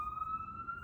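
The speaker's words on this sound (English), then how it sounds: "sorry, there's sirens again." A siren on an emergency vehicle passing through the city sounds a faint, steady high wail, quiet and distant under a low background rumble.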